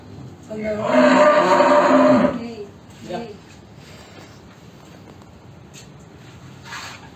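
A cow moos loudly once, a long drawn-out low call lasting over a second, followed by quieter background noise.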